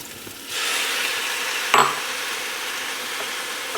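Tomato olive rice sizzles in a hot pan, a soft hiss swelling to a steady fry after half a second, with one sharp pop or clatter partway through before the sizzle settles back to an even crackle.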